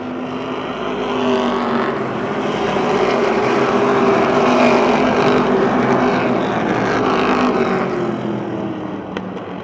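Race cars lapping a short oval at Motordrome Speedway in 2007, a dense continuous engine drone that swells as the pack passes close and eases slightly toward the end, with no talk.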